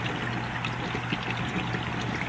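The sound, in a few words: water flow and pumps of 125 gallon freshwater aquarium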